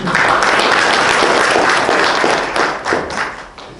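An audience at a book launch concert in Seoul gives loud, dense applause, a sustained burst of many hands clapping that thins slightly toward the end.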